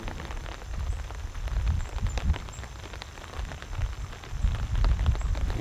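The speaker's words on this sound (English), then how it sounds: "it is now raining. It is very, very light, but it's raining." Very light rain pattering on a cot tent during a camping trip, a soft, steady, crackling patter of drops up close with a low rumbling wash underneath, no talking.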